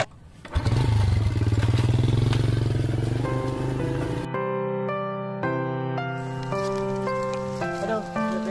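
A motorcycle engine rumbles loudly nearby for about four seconds, then gives way to music with a steady melody.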